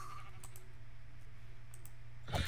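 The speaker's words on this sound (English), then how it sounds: "Yeah, we're killing sheep." Sheep bleating in the Minecraft UHC video game, a short bleat near the end over a steady low game hum with a few faint clicks earlier.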